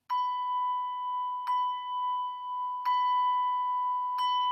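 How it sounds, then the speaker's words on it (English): A small B5 bell struck with a red mallet rings out four times at steady intervals, each clear strike leaving a sustained, pure tone that keeps sounding until the next hit; loud and close, with no talking. "So I'll try on a smaller bell. This is a B5. We recommend red mallet."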